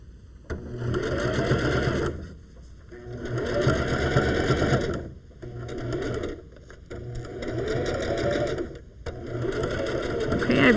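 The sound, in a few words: sewing machine stitching a fabric seam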